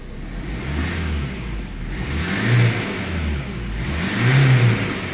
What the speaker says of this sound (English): The car isn't started at the minute, so let's just start the car.